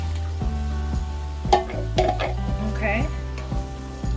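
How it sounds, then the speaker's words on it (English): A big can of diced tomatoes tipped into a hot pot for turkey chili, a wet plop and clatter against the pan over a steady low sizzle and hum, with a brief spoken word nearby. "We're gonna add our big can of diced tomatoes."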